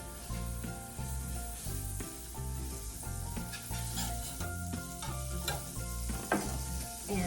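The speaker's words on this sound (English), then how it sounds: "I'm gonna get some butter on it." Butter sizzles on a hot griddle, a soft steady hiss running under continuous tonal background music, fairly faint and even.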